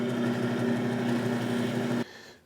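A leather burnishing machine spinning: a steady motor hum with a high whine that runs evenly for about two seconds, then cuts off abruptly.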